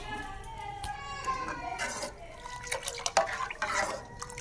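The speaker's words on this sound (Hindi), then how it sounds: "इसमें अब हम डालेंगे बिस्मिल्लाहिर्रहमानिर्रहीम दूध" Milk is poured into a pot of kahwa tea, making a faint, close trickling and splashing that rises slightly toward the end.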